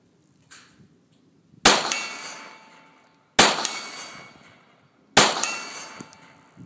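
Three sharp metallic clangs from Glock 17 rounds striking a steel target at 50 yards, evenly spaced about two seconds apart, each ringing out briefly over a quiet outdoor background, with a fainter tap before the first.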